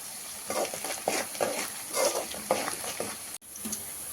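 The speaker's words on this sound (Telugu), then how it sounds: "ఇలా ఫ్రై అయిపోయినాక లైట్గా గోల్డిష్ కలర్ వచ్చే వరకు ఫ్రై చేసుకోవాలండి" Food frying and sizzling in a pan while being stirred until lightly golden, with steady crackle and repeated scraping strokes of a spoon, ending in a brief sharp cutoff.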